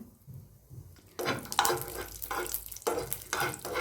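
Chopped nuts stirred in a pan over heat for a Ganesh Chaturthi sweet dumpling filling, giving a soft frying sizzle with scraping spoon strokes in bursts, close and moderately loud, with no talking.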